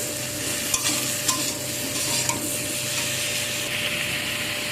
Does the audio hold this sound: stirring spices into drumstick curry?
yes